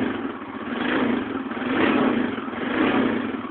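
A Honda 350ES engine keeps running just after a cold start, a steady mid-pitched idle that swells and eases in gentle waves, close and alone with no talking.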